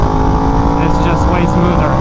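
A Yamaha R1M sport bike engine roars loud and close under wind rush while riding, with the pitch shifting as it changes gear without the clutch. A rider's voice comes through over the engine.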